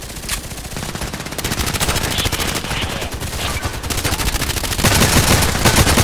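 Rapid automatic gunfire from a weapon in the shooter game Contract Wars, dense bursts of shots rattling nearly nonstop, loud and close, growing heavier near the end.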